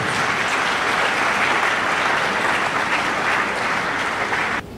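Warm, sustained applause from a crowd at a university graduation ceremony for a nursing sciences class, dense and steady throughout before cutting off abruptly near the end.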